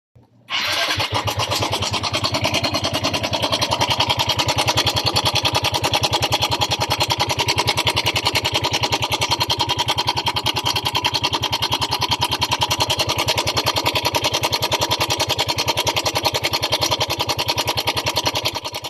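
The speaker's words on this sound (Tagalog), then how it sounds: "Saan kaya nanggaling ang lakas ng lagitik o tunog o ingay ng kanyang makina?" Yamaha Mio Soul i125 scooter engine idling steadily with a sudden loud knocking fault, a close, continuous rapid ticking clatter over a low engine drone that holds for the whole stretch without talk.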